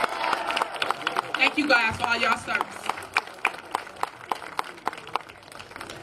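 Audience claps and cheers for elected officials standing at a mayoral inauguration in Dalton, the scattered, sharp claps continuing under a speaker's voice and thinning toward the end.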